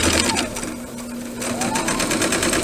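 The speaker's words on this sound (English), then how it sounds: "So now we are going to sew down the length of the pillowcase." A sewing machine runs up the length of a pillowcase with a loud, close, continuous motor hum and rapid needle clatter that eases a little partway through.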